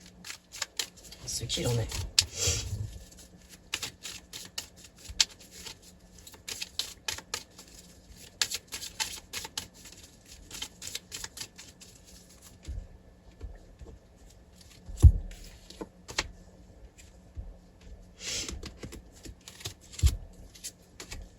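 A deck of flower tarot cards is shuffled, with dense, quick papery riffles and flicks in bursts, fairly quiet, while someone talks softly over part of it.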